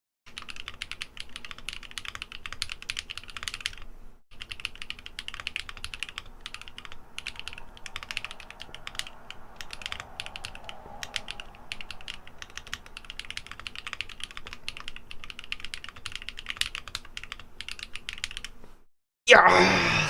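Someone types fast on a Neo Ergo keyboard fitted with lubed Glorious Panda switches. Rapid, continuous key clacks sound up close for about twenty seconds, with one brief pause early and a short break near the end.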